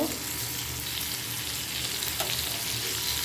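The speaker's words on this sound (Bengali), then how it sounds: "চুলার উপরে ফ্রাই প্যান দিয়ে আমি কিছুটা সরিষার তেল দিয়ে দিলাম তারপরে সেই কাটা টমেটোগুলো আমি এক এক করে দিয়ে দিব" Sliced green tomatoes frying in mustard oil in a frying pan on a stove, a loud, steady close-up sizzle that continues without a break.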